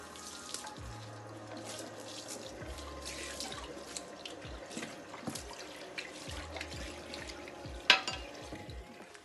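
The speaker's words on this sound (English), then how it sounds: "And then we'll rinse." Tap water runs into a kitchen sink during a rinse after scrubbing with Bar Keeper's Friend, a steady close splashing wash with faint knocks and clatter, no voices.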